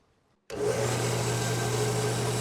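An offhand grinder starts up abruptly after a brief quiet moment, then runs as a loud, steady broadband roar with a constant motor hum while metal is held against the wheel by hand.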